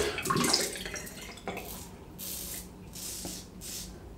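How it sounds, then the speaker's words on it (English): Cold water runs from a bathroom tap in short spraying bursts, close and fairly quiet, with brief splashes and pauses between flows. "cold water will sort that"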